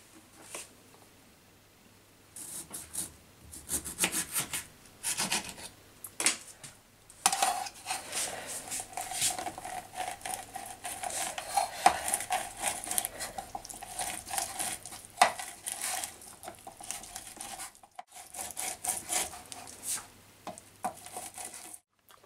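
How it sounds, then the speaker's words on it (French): Two limes and part of an orange being squeezed by hand or on a kitchen juicer for an orange and lime cheesecake, giving intermittent squelching, scraping and clinking bursts with brief pauses between them. "Je vais maintenant presser 2 limes et une partie de l'orange"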